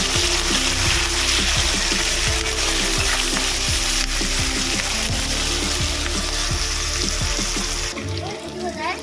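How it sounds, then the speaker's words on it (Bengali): Chopped onions fry in oil left over from frying katla fish, a dense continuous sizzle with repeated clattering stirs and scrapes of a utensil, close and loud, easing off near the end. "মাছ ভেজে নেওয়া তেলের মধ্যে আমি দেব কুচিয়ে রাখা পেঁয়াজ পেঁয়াজটাকে ভেজে নেব"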